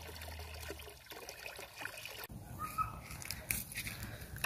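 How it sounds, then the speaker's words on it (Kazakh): Water pouring and trickling into a 20-litre container, a faint uneven splashing dribble with a brief louder gush midway, quiet and close. "міне су құйып жатырмын"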